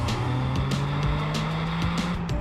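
Toyota GR Corolla engine pulling hard under acceleration past 3,000 RPM, a steady loud rising drone with a strong low engine tone and layered harmonics, heard alone and continuous.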